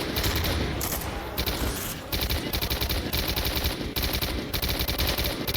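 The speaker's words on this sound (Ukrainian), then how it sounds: "кулемет перегрівається" Sustained machine gun fire from S.T.A.L.K.E.R.: Lost Alpha, loud and dense, in rapid bursts with brief pauses near 1.3, 2 and 3.9 seconds, with no talking.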